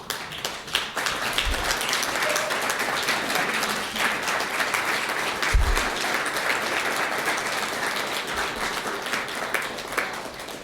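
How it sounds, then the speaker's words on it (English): An audience at a community college founders foyer dedication stands and applauds a family, giving dense, sustained clapping that fills the room for several seconds, with a few low thumps mixed in. "Can you just stand for a second and let's applaud?"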